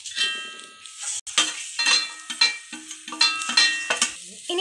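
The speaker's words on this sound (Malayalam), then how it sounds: "ഇനി ഇതെല്ലാം കൂടി ഒന്ന് മിക്സ് ചെയ്യാം." Banana leaf thoran being stirred with turmeric and salt in a pan, a run of close scraping and stirring strokes with soft sizzling underneath and a brief pause partway through.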